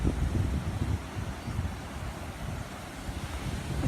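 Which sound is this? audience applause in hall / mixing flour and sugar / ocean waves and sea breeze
ocean waves and sea breeze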